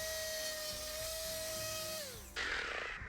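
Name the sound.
sanding cut ends of a wooden deck board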